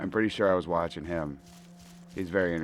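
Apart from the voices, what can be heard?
No distinct noise like a dog, phone or traffic.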